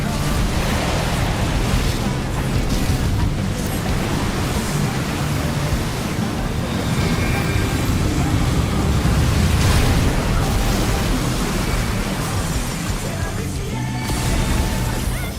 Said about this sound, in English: The brothers have triggered a fusion explosion!